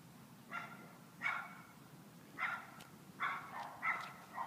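Several dogs bark outdoors in short bursts, about six barks spaced irregularly, moderately close with quiet background between them.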